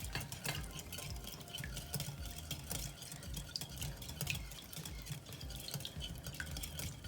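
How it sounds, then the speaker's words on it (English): Cornbread batter with half and half and melted butter is stirred in a bowl, a faint, repetitive wet scraping and swishing at a steady rhythm. "And we're just gonna mix it in really good."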